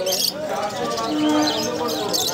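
Pigeons in cages at a market give soft, throaty coos and a few chirps. Someone talks over them, and the birds sound close and moderately loud.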